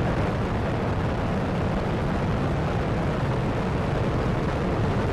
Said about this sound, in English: Booster ignition and liftoff of Shuttle Endeavour